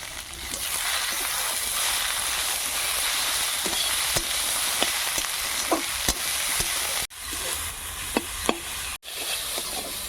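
Leaves fry with salt and green chilies in a pan, giving a steady close sizzle broken by occasional sharp stirring scrapes and two brief dropouts, with no talk.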